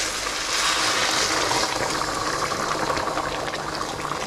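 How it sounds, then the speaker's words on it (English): Water poured into a hot frying pan of prawn and chorizo fried rice, giving a steady, close hissing gush that holds for about four seconds with no talk. "Lower the heat to medium high. Add the water."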